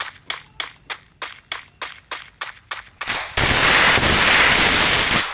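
Video game gunfire: about a dozen sharp, evenly spaced shots in a quick burst, then a dense, continuous roar of sustained firing, loud and close with no talking.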